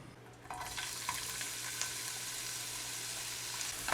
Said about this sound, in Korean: 어느 정도 팬에 이제 열이 좀 받으면은 여기다가 식용유를 살짝만 뿌려줍니다